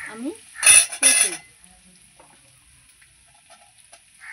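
Onion and papaya drop into a hot pan for a homemade chicken stew, giving two loud bursts of sizzling close by, then fading to a quiet low fry with faint clinks.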